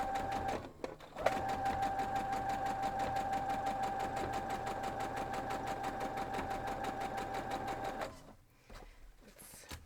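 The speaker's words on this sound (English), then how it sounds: "Let's sew that together." A sewing machine stitches a quilt block in a steady, rapid run of needle strokes, close and fairly quiet, stopping briefly near the start and again toward the end.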